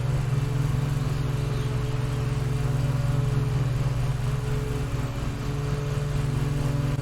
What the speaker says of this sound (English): If you hear your engine bogging down, you can kind of make adjustments.